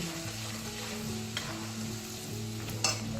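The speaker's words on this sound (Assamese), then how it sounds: "এইখিনি ভালকৈ ভাজি কৰি" One and a half spoonfuls of ginger paste fry in hot oil for jackfruit pickle, giving a steady low sizzle. The sizzle continues throughout with occasional soft scrapes of a spoon stirring in the pan, and no talk.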